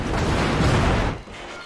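Warship guns fire in the naval video game World of Warships, a single loud, broad booming blast that rumbles for about a second and then cuts to quieter background noise.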